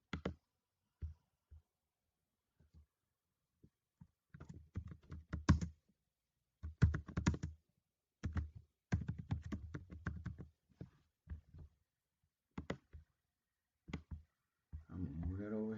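A computer keyboard clatters in short bursts of quick taps and clicks, close and quiet, separated by silent pauses.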